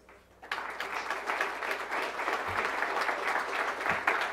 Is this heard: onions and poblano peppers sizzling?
no